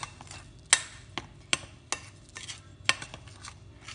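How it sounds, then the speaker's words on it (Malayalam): Dry ingredients for bhatura dough, including chilli flakes and urad dal, are mixed in a bowl with a utensil, producing a few sharp clinks and taps against the bowl spaced irregularly over soft scraping, all fairly quiet and close. "എല്ലാം കൂടി നല്ല മിക്സ് ആക്കാം."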